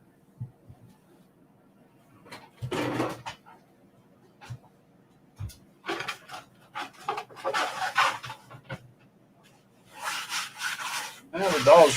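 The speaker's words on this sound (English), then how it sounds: "the dogs are fussing tonight" Dogs fuss at night, with scattered short yelps, whines and scuffling bursts separated by quiet gaps. The sounds are close and uneven, with a few stronger outbursts near the end.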